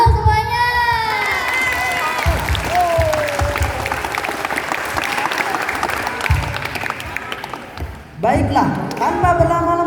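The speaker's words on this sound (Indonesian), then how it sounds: "Tepuk tangan dong semuanya." An audience at a school orientation talk show claps and cheers in sustained applause, dense and loud. Shouts rise through it, a host's voice speaks over the crowd, and a second wave of clapping follows near the end.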